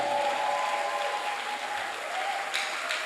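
A church congregation applauds to acclaim Jesus, steady sustained clapping from a large crowd filling the room, with a faint sustained musical tone running underneath.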